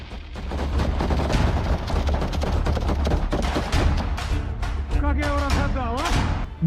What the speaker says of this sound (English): Turning the corner, an AFU soldier notices movement and opens fire.